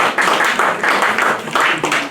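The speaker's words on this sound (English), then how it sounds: "as we collectively give snaps and claps to our poets" An audience at a poetry reading fills the room with a brisk, continuous patter of claps and finger snaps, loud and close, with no one speaking over it.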